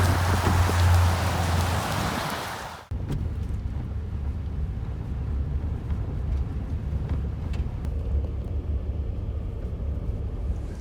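Heavy rain hisses loudly for a few seconds during a drive home in rain and snow, then drops abruptly to a softer, steady wash of rainfall over a low vehicle rumble, with no voices.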